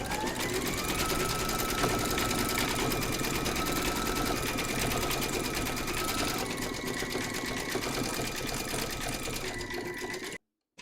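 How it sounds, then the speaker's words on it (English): A home embroidery sewing machine stitches out the black eye details of an Easter treat bag design, running steadily and loud close by for about ten seconds before stopping abruptly. "Load your matching bobbin and thread colour for the black of the eyes into your machine and then stitch"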